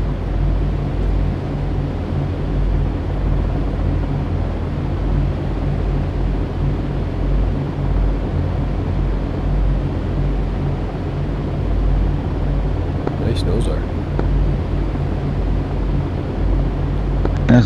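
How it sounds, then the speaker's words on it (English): An Allison aircraft engine runs in a flight combat simulator during a Rhineland campaign mission, producing a steady, heavy low drone that holds constant, with a few brief faint clicks partway through. "Starting engine."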